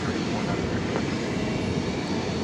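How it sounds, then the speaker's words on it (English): An Airbus A319 built in 2000 at DFW Airport gives off a steady, broad jet roar that holds even and fairly loud throughout, with no voices over it. "That is an Airbus A319 from the year 2000."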